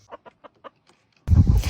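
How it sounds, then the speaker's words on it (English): A rooster gives a series of soft, evenly spaced clucks, five short calls about a fifth of a second apart, and then a loud burst of broadband farmyard noise swamps everything at the end. "This is obviously not the same rooster,"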